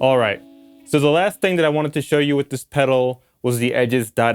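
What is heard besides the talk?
No everyday noise stands out behind the speech.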